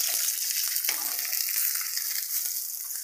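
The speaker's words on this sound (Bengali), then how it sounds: "বন্ধুরা, আমার মাছ ভাজা সব হয়ে গেছে" Fish fries in hot oil in a pan, producing a loud, steady, crackling sizzle throughout, close by and uninterrupted by speech.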